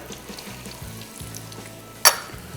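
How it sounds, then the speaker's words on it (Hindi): Ginger and garlic fry in a pan with a soft, steady sizzle, while low clunks and a sharp clatter near the end suggest a utensil striking the pan. "अदरक लहसुन सबसे पहले शामिल करेंगे और इनको करेंगे फ्राई"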